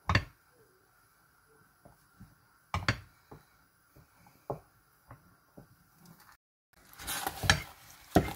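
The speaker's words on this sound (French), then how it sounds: "J'ai remue sans cesse jusqu'à ce que la pâte s'épaississe." A thickening paste is stirred in a pot, heard as a series of spaced knocks and scrapes of the spoon against the pot, then a denser burst of thick bubbling and stirring at the end.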